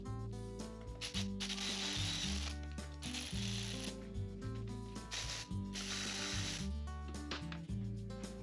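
A ratchet tightens bolts on a Corvair differential and transmission with repeated strokes of fast, crisp clicking. The sound is close but quiet.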